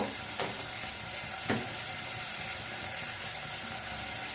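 Potatoes for dum aloo fry in hot oil with a soft, continuous sizzle, close and quiet. Two brief clinks or stirring scrapes stand out near the start.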